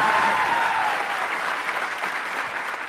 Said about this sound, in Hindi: कैमरा फोकस किया जाए उन लोगों पे जो पूरे दिल से तालियां बजा रहे हैं।